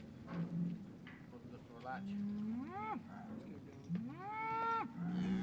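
Cattle in handling yards give several loud rising moos in sequence, some near and some farther off, with faint stock-yard background noise.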